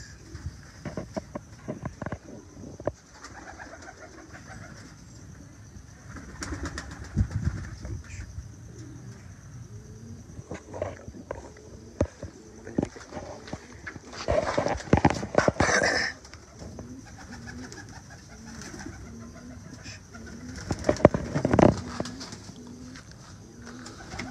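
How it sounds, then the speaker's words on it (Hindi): Pigeons flap their wings in irregular bursts, a loud flurry near the middle and another late on, with soft cooing and shuffling around a rooftop loft between them. "कबूतरों को उड़ता हुआ पर मारता देख के बिल्ली भी आ गई है"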